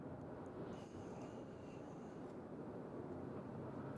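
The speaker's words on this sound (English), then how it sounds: "So there's the MD-11" An MD-11 aircraft at the UPS Louisville airport gives a steady, faint, distant engine rumble and hiss with a thin tonal whine, even throughout.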